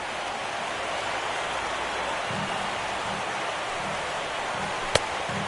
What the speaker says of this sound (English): And this rain is intensifying now. This is as hard as it's come down all night.